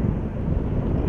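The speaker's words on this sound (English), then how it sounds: "with the wind blowing as hard as it is" Strong wind gusting outdoors while fishing beside a canal, a loud, close, constant rumbling roar buffeting the microphone.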